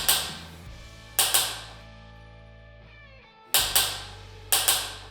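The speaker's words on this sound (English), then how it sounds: "tighten up the clamp screw on both towers until the torque wrench clicks" Ratcheting clicks from a torque wrench tightening a tower clamp screw on a Yakima TimberLine FX roof rack, sharp metallic clicks in short pairs over a faint steady hum.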